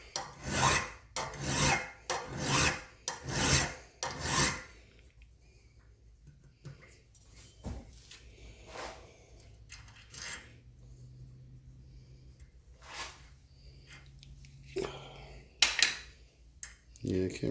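Moths striking an outdoor light at night in Saskatchewan, making a rapid burst of sharp raspy ticks and taps for the first few seconds, then sparse scattered hits with quieter gaps.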